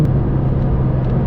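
Heard from inside while driving, a Lamborghini Murcielago LP670-4 SV engine gives a loud, steady low rumble throughout the brief moment.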